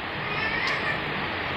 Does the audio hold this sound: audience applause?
no